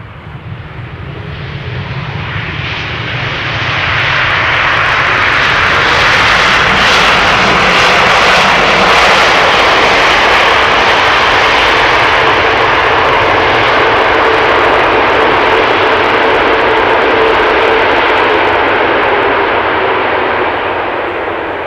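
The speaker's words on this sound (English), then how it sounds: "This is American Airlines flight 204 arriving from Philadelphia. 7878 Dreamliner." An American Airlines Boeing 787 Dreamliner landing at Amsterdam Schiphol, a loud sustained jet engine roar that builds over a few seconds, then holds steady and close for the rest of the clip.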